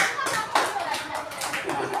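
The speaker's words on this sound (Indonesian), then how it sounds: "tepuk tangan dulu untuk Marwa dan Alika tadi" A classroom of students claps for two classmates, Marwa and Alika, at a school lesson; a short burst of uneven hand claps, fairly close, with children's voices mixed in.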